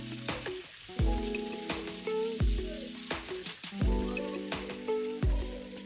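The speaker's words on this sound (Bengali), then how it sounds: "এখানে মাথাগুলো দিয়ে দিলাম একে একে মাথাগুলো আমি ভেজে তুলে নিলাম" Hilsa fish heads fry in hot oil, crackling and sizzling loudly, with sharp bursts recurring about once a second as pieces are dropped in and moved.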